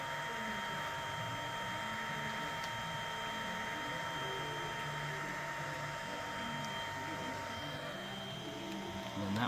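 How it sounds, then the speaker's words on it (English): A heat gun blows a steady, even airflow hum while heating the bottom of a Samsung Galaxy S5 during a phone teardown, continuous and close, with a slight swell at the very end. "Turn the heat gun back on and heating up that bottom part again."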